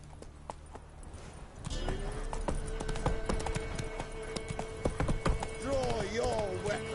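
Horse hooves clip-clop steadily in Elden Ring, a continuous rhythmic gallop starting after a brief quieter lead-in, with voices and game sounds layered over it.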